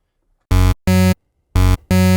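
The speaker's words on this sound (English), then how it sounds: "I'm going to be combining a saw wave with a square wave." Four short synth notes come from a Serum patch that stacks a saw wave and a square wave with a sub oscillator one octave down, buzzy and bright, in two pairs of close, evenly spaced hits, heard alone.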